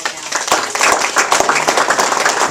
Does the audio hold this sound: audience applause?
yes